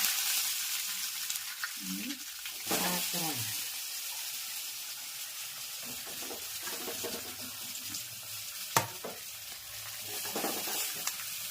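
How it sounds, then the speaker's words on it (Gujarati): Steady hot-oil sizzle of patra being tempered with white sesame seeds runs throughout, with occasional spoon clinks and stirring, plus a few brief murmurs in the background. "સરસ મજાના પાતરા વઘાર શરૂ થઈ ગયો છે"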